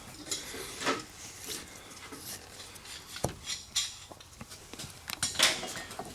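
Hand tools tightening a part during a Polaris Ranger axle and bushing install: irregular metallic clicks, ratcheting and clanks close by, with a few sharper clinks, and no talking.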